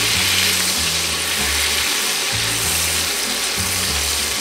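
Butter sizzles steadily in a pan as the base for a creamy wine sauce, a constant close hiss that runs unbroken throughout while a low droning hum rises and falls beneath it.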